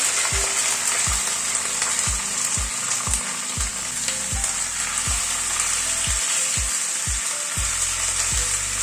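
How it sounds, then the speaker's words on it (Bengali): Mutton fries loudly in a hot pan with a dense, steady hiss and crackle. Regular low thumps of a utensil or the pan recur throughout. "এবার মাটনটা দিয়ে দিলাম।"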